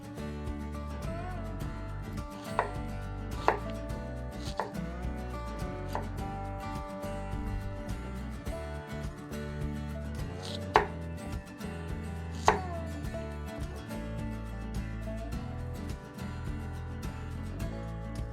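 An onion being sliced into half rings on a cutting board, a knife tapping through at an irregular pace with a few sharper cuts, heard under steady background music.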